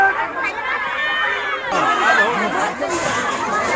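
A crowd mobbing a police team that came to catch drinkers, rendered as a dense swell of shouting and agitated chatter, loud and close, with surging voices and commotion throughout.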